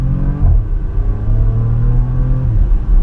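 A Porsche Macan Turbo's powerful engine accelerates hard in Sport Plus mode, its pitch rising and dropping abruptly at gear shifts, a loud continuous roar from inside the car.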